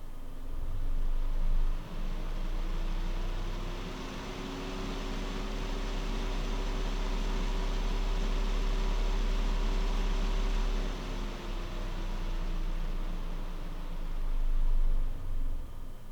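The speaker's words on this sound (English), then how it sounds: "While spinning at maximum speed, the Wing Boost 3 reached a maximum sound level of 41 decibels" A triple pack of Alpenföhn Wing Boost 3 ARGB high-speed PC fans runs at maximum speed, giving a steady whooshing airflow hiss with a low hum and a faint tone that rises and then falls, continuous for the whole stretch.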